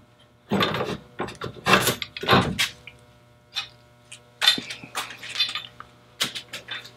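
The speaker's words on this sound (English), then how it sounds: "now it's time to take the clamps off of it" Clamps come off a glued cart for a CNC table, giving a string of close ratcheting clicks, clunks and metallic clatters in irregular bursts with quiet gaps between.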